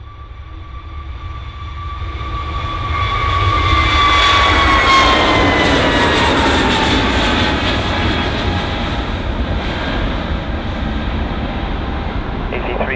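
A jet airliner takes off from runway 27 at Bristol Airport: engine whine and roar swell to a loud peak, then a broad rumble slowly recedes into the distance, with radio talk underneath.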